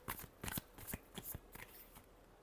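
Tarot cards being shuffled in a final shuffle, a quick run of soft riffling flicks and taps, close and quiet with no talk.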